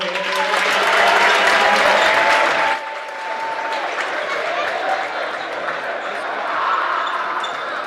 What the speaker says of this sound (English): Let's give that young man a round of applause for that one.